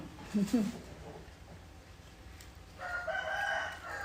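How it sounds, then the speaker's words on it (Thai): A rooster crows, fairly distant, with a brief murmured voice near the start. "ก็จะได้ยินเสียงไก่อยู่ตลอดเวลานะเพื่อน"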